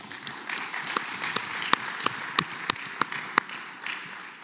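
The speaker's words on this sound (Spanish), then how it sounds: "Un aplauso para él." An audience at a public policy dialogue at a Chilean university applauds a speaker being introduced, steady clapping from the crowd with a few loud, distinct claps standing out near the microphone.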